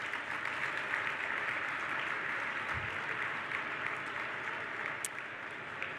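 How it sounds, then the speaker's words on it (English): Sustained, even applause from a large banquet audience of several hundred at a Landmarks Illinois celebration, a steady dense clapping that carries on for several seconds at moderate distance with no speech over it. "Would you please clap for them?"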